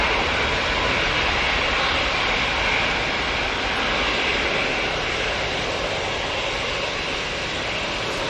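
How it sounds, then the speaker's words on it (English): An Aer Lingus propeller airliner departs Manchester Airport, giving a steady, loud, broad engine roar that holds for the whole stretch with no talk. "we've got the Aer Lingus prop coming over, so we will have one decent prop departure before we go"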